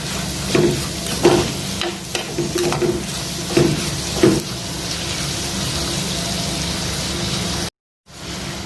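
Onions and shallots sauté in a pan with salt while cooking crab mappas, a close frying hiss with scraping spatula strokes that fades to a steady sizzle and then cuts out briefly.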